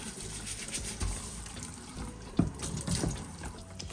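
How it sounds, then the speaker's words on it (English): Running tap water splashing in a kitchen sink that was just used to drain fish, a steady near wash of water with brief louder splashes and clatter about midway, no talking. "Now I'm gonna wash my sink really quickly since I just drained the fish in here."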